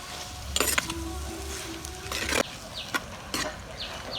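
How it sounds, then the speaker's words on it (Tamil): Dried fish and bottle gourd sizzle and fry steadily in a pan, with a few sharp scrapes and clinks of a spoon stirring against the metal, close up and with no talk. "இது நல்லா இன்னும் கொஞ்சம் நேரம் வணங்கட்டும்."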